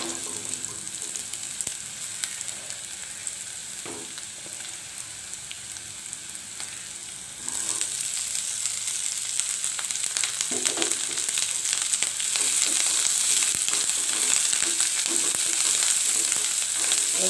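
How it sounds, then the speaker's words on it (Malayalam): Steady crackling sizzle of thondan chillies frying in hot oil for pickle, with occasional stirring scrapes; the hiss grows a bit louder partway through. No talking. "ഈ സമയം നമുക്ക് തൊണ്ടൻ മുളക് ഇട്ട് കൊടുക്കാം എന്നിട്ട് രണ്ടും കൂടി ഒരുമിച്ച് വറുത്ത് കോരുക"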